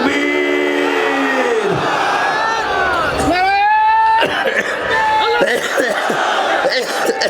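Large crowd at an outdoor Islamic sermon gathering in Singra, Natore, roaring a takbir chant in answer to the preacher, loud and sustained swelling shouts from many voices filling the whole stretch.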